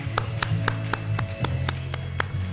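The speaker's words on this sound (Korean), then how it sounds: "우리 함께 영광의 박수 드리도록 하겠습니다." A church congregation claps together in a steady rhythm of sharp hand claps, about two per second, over a sustained low organ or keyboard tone and singing.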